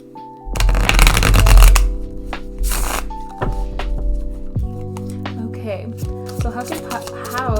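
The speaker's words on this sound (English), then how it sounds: "I have to put the mic down as I shuffle" Tarot and oracle cards being shuffled up close, a loud riffling burst followed by softer repeated card handling, with steady background music underneath and no voice.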